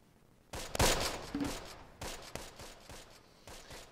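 Troops trade gunfire in the Close Combat war game: dense bursts of rifle and machine-gun fire crackle near and loud, a heavy volley early and then scattered sharp shots for the rest of the stretch, with no talk.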